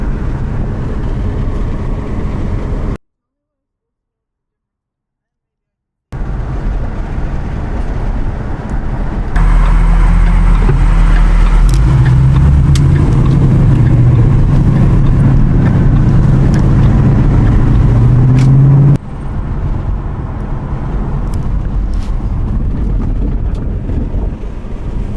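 A Ford Mustang S197 drives on the road after a rear control arm install, giving steady road and engine rumble from inside the cabin. A louder stretch of acceleration or tire noise swells midway, and there is a short silent gap.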